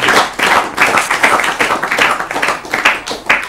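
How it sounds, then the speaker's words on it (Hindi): Studio audience at an Urdu-language quiz programme clapping after a correct answer, close and loud rhythmic hand claps in uneven bursts, with a few brief dips between rounds. "इस पे ताली बजा दीजिए।"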